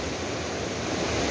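A river swollen by heavy rains rushes past in a broad, steady roar of flowing water, loud and close, with no breaks across the short stretch.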